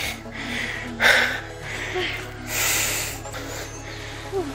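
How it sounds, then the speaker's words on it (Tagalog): A hiker climbing a mountain at Mount Polis, Sagada, breathes in heavy, ragged pants and gasps close to the microphone, in short uneven bursts. "Lakas ng hingal ko."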